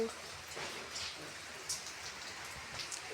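Steady rain falling close by outside a house, a soft continuous patter with occasional sharper drops striking a surface.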